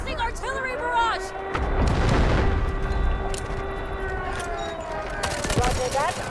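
Artillery barrage explosions in the Delta Force shooter game, heavy low booms rolling together for a couple of seconds amid steady battle noise, with a wailing tonal sound and gunfire-like bursts layered over a continuous game soundtrack.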